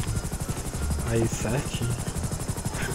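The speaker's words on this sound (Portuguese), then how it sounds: "A porra do helicóptero." A helicopter in GTA 5 thrums with a fast, steady rotor chop, loud and near, while someone talks over it.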